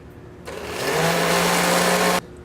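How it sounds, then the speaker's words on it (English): An electric blender whirs through porcini mushrooms with thyme for soup in an Italian restaurant kitchen, switching on abruptly, rising to a loud steady whine for under two seconds, then cutting off sharply. "Put them to the blender."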